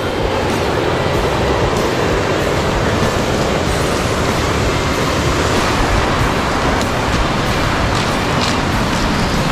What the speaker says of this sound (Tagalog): Ayan ang ilog oh.